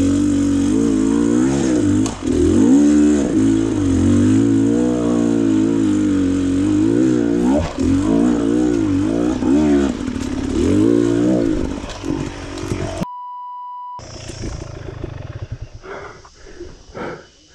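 An off-road dirt bike, an Xtrainer or KTM 530, revs and roars loudly up close on a single-track trail, its pitch rising and falling with throttle, then cuts out to rustling and clatter.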